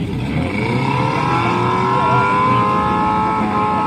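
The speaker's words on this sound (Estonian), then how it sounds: "Need kanged autod veel ikka liiguvad." A scrap car's engine revs hard and steadily at a rough-built banger race in eastern Estonia, loud and close throughout, with a continuous droning roar that shifts slightly in pitch and no speech over it.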